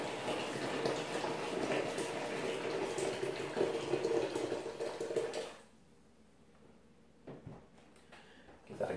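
Boiling water poured from a kettle into a bucket makes a steady, close, full rushing splash for about five seconds. It then stops, leaving a quiet room with a few faint knocks.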